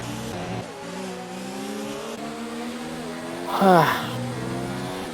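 F1 2019 race cars lapping the Brazil Grand Prix, engines droning and shifting pitch at close range, with one sharp rising whine as a car sweeps past; a commentator talks over the engines.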